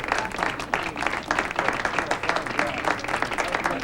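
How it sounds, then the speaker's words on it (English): Steady, dense applause from a crowd, continuous clapping that holds at an even level throughout with a faint murmur of voices underneath. "let's have a big round of applause for Father O'Brien and his most worthy cause"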